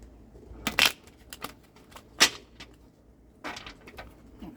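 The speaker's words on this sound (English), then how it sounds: "So we're going to give this a shuffle." Lightseer tarot cards are shuffled by hand in a quiet room, giving a few sharp riffling snaps and soft papery flicks in irregular bursts, close and clear with no talking.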